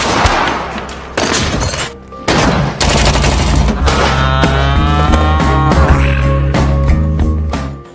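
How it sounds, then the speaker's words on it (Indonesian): Pistol shots crack out in bursts during a tense action film scene, loud sharp reports mixed with shattering impacts and dense layered effects and music. "Rupasop pun menembaki mereka dengan pistol yang ia sembunyikan di bantalan duduk kursi rodanya."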